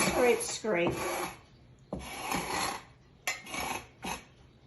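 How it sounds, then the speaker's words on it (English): Pastry knife scraping dried pastry dough and hardened flour off a work surface in several rough, rasping strokes, close by, with pauses between strokes. "I like to use the pastry knife. And I just kind of come along and I just scrape."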